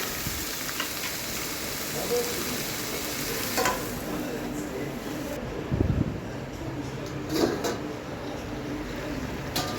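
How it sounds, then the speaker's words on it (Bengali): Potato and pumpkin fry in hot oil in a pan, a close, steady sizzle broken by a few louder scraping stirs of a spoon against the pan. "এটাকে আগে ভালো করে ভাজবো আলু আর কুমড়ো একটু বেশ ভাজা ভাজা হবে"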